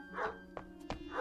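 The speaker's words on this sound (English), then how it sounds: "Yep, that's the dog that always comes around." A collie barks in a radio drama, with a few short sharp barks in quick succession under a steady hum and light background voices, fairly close and moderately loud.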